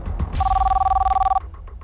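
A telephone rings once at a cab service office, a loud steady electronic tone lasting about a second, with faint background knocks before and after.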